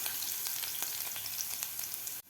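Garlic sautéing in a pan until golden, a steady bright sizzle with faint crackles, close and continuous, with no talking.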